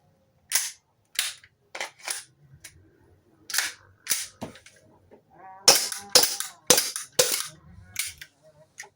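Sharp, snappy shots from an airsoft gas blowback rifle, fired singly and then in a quicker cluster of pops, each crisp report followed by a short metallic clack, close by and loud in a quiet room.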